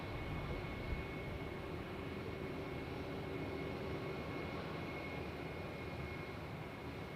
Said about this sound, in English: here we have a Finnair A321 to Helsinki